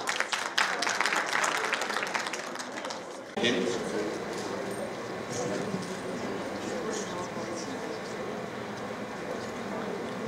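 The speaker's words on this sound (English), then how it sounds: "A big round of applause for all." Audience applause fills a conference hall at the opening of a literary festival session on crime fiction, loud dense clapping for about three seconds, then dropping to a softer crowd murmur and scattered noise.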